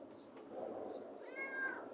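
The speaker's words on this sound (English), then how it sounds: "Meow. What's that mean? That means eat." A hungry pet cat meows twice at close range: a soft, low first call followed by a clearer, rising meow against a quiet indoor background.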